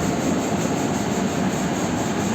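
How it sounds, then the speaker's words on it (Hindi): The New Delhi–Dibrugarh Town Rajdhani Express rushes past a station platform without stopping, a loud, dense, continuous roar of wheels and carriages close by, steady throughout with no gaps. "New Delhi Dibrugarh town Rajdhani express."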